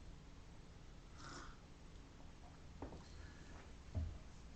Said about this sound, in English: Meows and woos sounded behind the curtains.